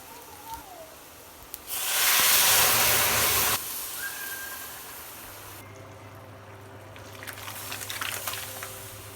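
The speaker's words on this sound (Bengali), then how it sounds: "পেঁয়াজ মরিচ ভাজা হয়ে গেছে, এবার আমি ডালটা ঢেলে দেবো।" Lentils are poured into a hot pan of oil with fried onion and chili, setting off a sudden, loud hissing sizzle that lasts about two seconds before settling into quieter, steady frying.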